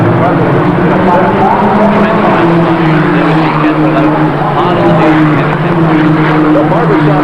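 Barber Saab Pro Series race cars from the late 1980s roar loudly through a chicane, engines revving and shifting in pitch under continuous commentary talk.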